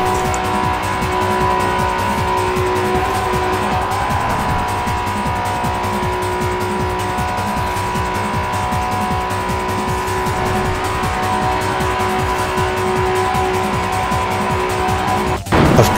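Acura NSX car driving fast in a steady high engine drone with tire squeal, ending in a brief loud jolt like a collision, with no voices.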